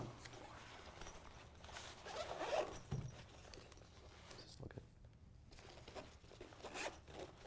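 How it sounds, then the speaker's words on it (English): Zippers on a recurve archery bag rasp open close by, quiet and uneven, with soft rustling and handling noises around the pulls. "The zippers are already fighting me on this"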